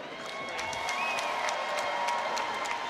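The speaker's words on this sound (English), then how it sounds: "that's about as big of an explosion of applause and cheers as you'll hear at a Front Street Fights event" At a Front Street Fights combat event, the crowd breaks into a sustained roar of applause and cheering after a knockout, a dense, even wall of clapping with a whistle rising above it.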